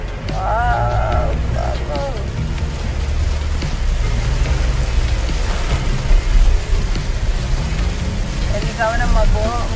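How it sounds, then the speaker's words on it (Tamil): Heavy rain pours steadily with rolling thunder during a road trip in Vagamon, loud and close, with voices talking over the downpour and occasional distant traffic. "நல்ல மழை."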